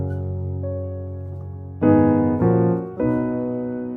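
Sustained chords, likely on keyboard, move from the 1 to the 4 through diatonic passing chords: a soft held chord is followed by three louder, fuller chord changes in quick succession, played alone without talking.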